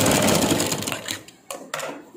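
A sewing machine runs fast and loud, stitching a 38 inch blouse, then slows and stops with a couple of sharp mechanical clicks.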